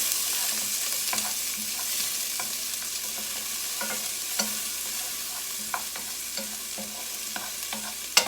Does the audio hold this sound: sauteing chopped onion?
yes